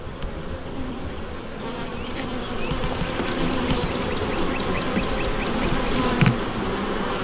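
Honey bees buzzing loudly and steadily during a hive inspection, checking the bottom box of a hive; a dense, close swarm drone continues throughout with no pauses.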